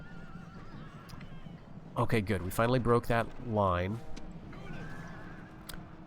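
Horses whinny during a Lords of Khand battle, one drawn-out neigh rising and falling in the middle, mixed with someone talking over the clash.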